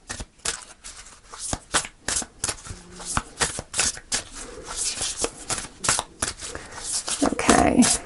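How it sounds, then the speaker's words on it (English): Close, crisp riffling and slapping of a tarot deck being shuffled by hand, in repeated uneven bursts over several seconds. "I'll do a couple more shuffles if it doesn't fall out"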